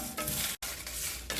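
Dried red chillies frying in oil in a pan while being stirred, making a steady close sizzle with scraping stir strokes and a brief gap midway.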